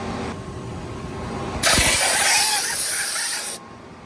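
A compressed-air airline blows dust off a large, heavily dusty heat exchanger, sounding as a loud, steady broadband hiss that begins abruptly midway, holds for about two seconds and then cuts off, over a low fan-like background hum.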